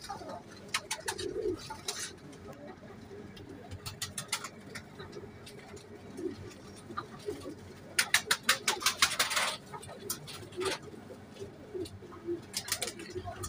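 Red-eyed pigeons cooing in soft, low repeated calls at close range, mixed with bursts of sharp clicking and fluttering from the loft, with quiet background sounds between.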